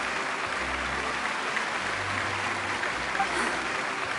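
Genshin Impact theater applause: dense, steady clapping fills the space like a crowd at a distance, with a low hum underneath.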